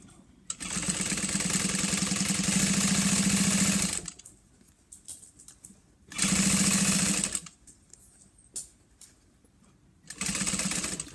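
A sewing machine stitches a fabric seam for a lunch box project in three runs, one long steady whir, then a shorter one and a final brief burst, with quiet handling noises in the pauses.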